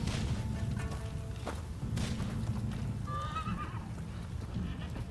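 Horses at a horseback archery practice ground in the video game Rise of the Ronin, with a clear whinny over low rumbling ambience and faint hoof thuds.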